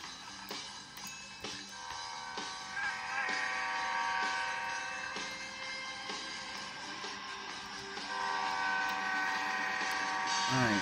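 Amtrak Dash 8 locomotive running in the Roblox game Rails Unlimited: a steady mechanical engine drone with rumbling rail noise that swells toward the end, a few brief tonal horn-like bursts, and light talk over it.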